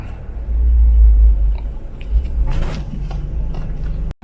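A car drives along a road in Jamaica, a loud low engine rumble and road noise that swells and eases, with brief knocks and rattles from inside the cabin.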